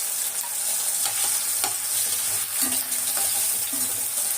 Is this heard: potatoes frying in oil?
yes